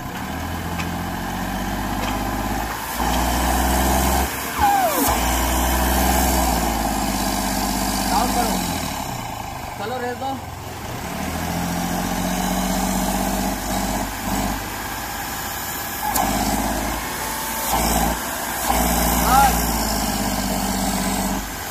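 Diesel engine of a Hyundai Xcent with a low-pickup turbo fault, idling steadily close by and being revved a few times in surges, with people talking over the engine noise.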